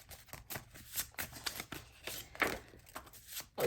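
Tarot cards being shuffled by hand in steady bursts of soft, papery riffling and slapping, fairly quiet and close, with no talking.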